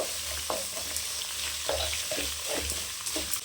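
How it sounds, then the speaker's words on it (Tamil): Onions sauté with a continuous sizzle in a pan for semiya kichadi, while a utensil stirs and scrapes them in repeated close strokes. No one speaks. "வெங்காயம் ரொம்ப வதங்கணும்னு இல்லை, கொஞ்சம் வதங்கினா போதும்."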